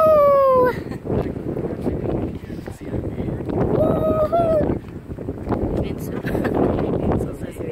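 Strong wind by a lighthouse in North Carolina buffets the microphone in loud gusty rumbles throughout, with people talking and calling out over it.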